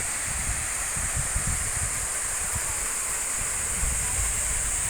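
A mountain waterfall high among large rocks pours with a steady, broadband rush of falling water, even and unbroken, heard from moderately close with no talking.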